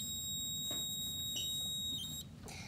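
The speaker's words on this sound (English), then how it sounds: "today I'm going to be showing you how to make a shoebox alarm" A homemade shoebox alarm buzzer, rigged with a battery, tape and a paper clip, emits a continuous shrill electronic tone for about two seconds, then cuts off abruptly.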